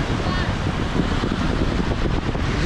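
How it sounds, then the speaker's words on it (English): Ocean surf and wind at Popham Beach State Park in Phippsburg, Maine: a steady, loud broadband wash of waves with gusty wind buffeting the microphone, continuous throughout. "This camera catches the waves."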